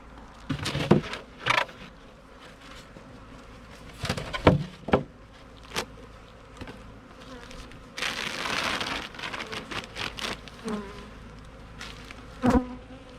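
Honey bees buzz around an open, queenless hive, a steady hum with individual bees zipping close past in loud, brief passes, and scattered knocks and rustles of frames being handled.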